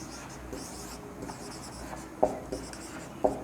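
Chalk or marker scratching out numbers on a board while working a Class 10 science electric-current problem; short faint strokes with a few sharper taps, alone with no talk.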